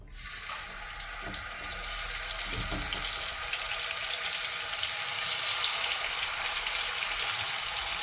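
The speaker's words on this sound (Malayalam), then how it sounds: "മീൻ പൊരിച്ചെടുക്കാം." Fish frying in a pan for fish tikka masala gives a steady, loud, hissing sizzle that fills the whole stretch, with a few soft knocks near the start.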